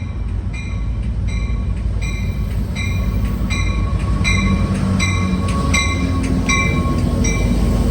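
Amtrak San Joaquin passenger train number 715 at Emeryville station in California, loud close rolling rumble with repeated rhythmic wheel clacks and metallic ringing tones throughout.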